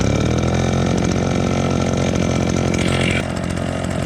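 A 79cc backpack leaf blower's engine runs after starting, a loud, steady buzzing drone with a slight dip near the end, close by with no voices.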